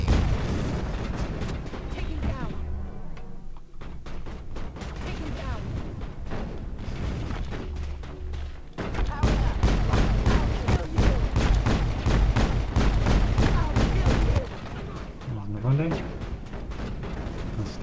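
Dense, continuous gunfire barrage from a Mass Effect squad firefight, loud and sustained for the whole stretch with overlapping bursts and booms, while someone talks over the combat.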